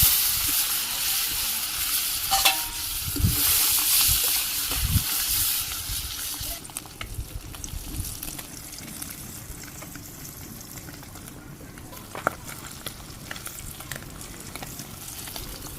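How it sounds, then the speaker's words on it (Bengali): Fish sizzling in hot oil in a pan on a clay stove, a loud broadband fry that is strongest over the first six seconds and then settles into a steadier, softer sizzle with occasional clinks and pops. "তেল গরম হয়ে গেছে"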